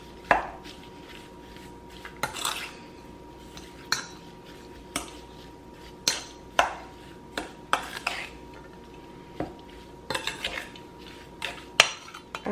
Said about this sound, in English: Now we're going to go ahead and just mix that in.